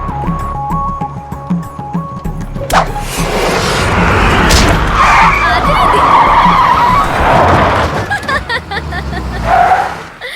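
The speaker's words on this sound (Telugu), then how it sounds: "సరే పెట్టి, కారు వస్తుంది." In a Telugu comedy film scene, a car arrives with a sudden loud skid and tyre squeal, a sharp hit followed by a long screeching slide that fades into engine noise, after a brief musical jingle at the start.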